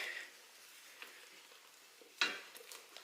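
Marshmallows, butter and peanut butter are stirred in a pan as they melt, with faint soft scraping and a light sizzle throughout and one sharper scrape of the utensil near the end.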